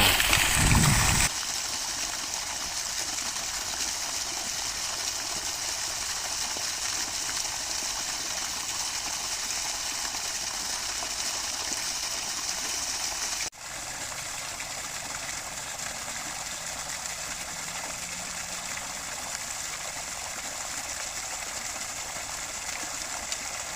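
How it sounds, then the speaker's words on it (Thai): Water runs continuously into a fish pond, turned on as a swirling flow to aerate it; a steady, close rushing wash holds an even level throughout, with one brief dip partway through. "ตอนนี้ผมก็เปิดน้ำให้มันแล้วนะครับ เปิดเป็นน้ำวนนะครับ เพื่อเติมอากาศ"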